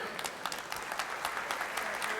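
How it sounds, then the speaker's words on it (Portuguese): A church congregation breaks into dense, steady applause that fills the room at a moderate distance, with a few brief voices rising over the clapping. "Você quer aplaudir ao Senhor?"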